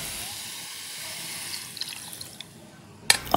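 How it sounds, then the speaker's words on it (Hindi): Water is poured into a pot of chicken pieces and leftover marinade to build a stock for Bukhari rice: a faint, steady hiss of running water that swells into a louder splash at the end. "और उसके बाद इतना ही हम पानी भी इसमें डाल देंगे"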